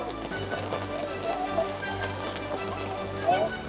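Steady rain patters on surfaces throughout in Rome, a continuous wash of drops with faint background hum.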